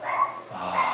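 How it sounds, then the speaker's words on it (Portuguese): A dog gives two short, near barks or yelps, roughly half a second apart, with a whiny, tonal edge and no talk over them. "tem que ter um cachorro latindo"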